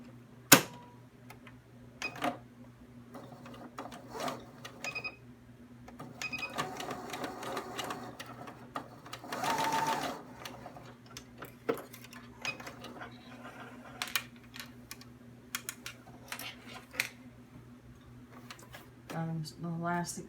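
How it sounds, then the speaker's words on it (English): A home sewing machine stitching two fabric pieces together for a tee shirt extender, a steady motor hum with bursts of rapid needle clatter and sharp clicks across the stretch. "Now I'm just going to sew these two pieces together."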